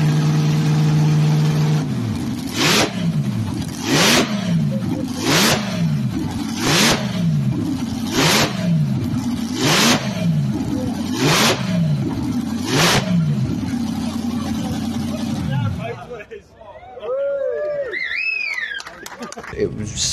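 A vintage 1936 racing car engine at Bremgarten in an Assetto Corsa simulation revs hard over and over, about eight rising blasts at regular intervals over a rough idle, loud and close, then drops away to quieter fluttering sounds.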